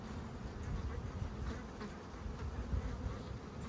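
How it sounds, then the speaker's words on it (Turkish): Honeybees buzz steadily on brood comb, including a newly emerged bee, as a continuous close, soft droning hum with no talk. "Yeni çıkan bir arı."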